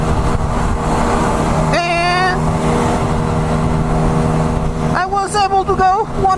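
Brixton Crossfire 125 XS motorcycle riding at around 100 km/h, a constant loud engine drone with steady harmonic tones and wind rush, with rising revving sweeps near the start and end.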